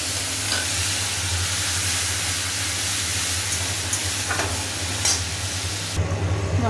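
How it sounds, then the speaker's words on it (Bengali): Fish fries in hot oil with black cumin seeds and tomato paste, a loud, continuous sizzle and hiss close up, with occasional stirring clinks near the end. "আর এখানে মাছ ভাজতে দিয়েছি, টমেটো পেস্ট।"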